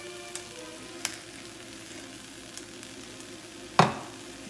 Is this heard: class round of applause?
no